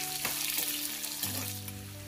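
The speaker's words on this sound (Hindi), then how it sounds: "इसके अंदर डाल के हम फ्राई कर रहे हैं" Onion pieces frying in a little oil, a quiet, even sizzle with a few soft scrapes and a low steady hum underneath, no talking.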